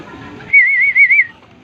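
A single warbling bird whistle rings out clearly up close for under a second as a pigeon arrives, rising and falling in a rapid trill against quiet background.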